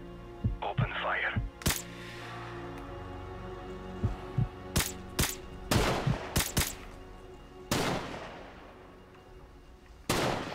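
Several sharp gunshots from a Modern Warfare Remastered match crack out irregularly, some in quick clusters and others spaced apart, loud and close, with voices talking between them.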